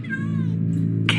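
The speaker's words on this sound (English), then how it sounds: "That almost sounds like..." Cats meow in the Minecraft Story Mode video game, a short high wavering call over a steady low hum, fairly close and clear, with a brief hiss at the end.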